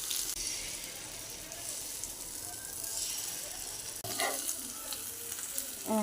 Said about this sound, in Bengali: এবার আমরা কড়াই নিয়ে গিয়ে নেড়ে নেবো তেলের মধ্যে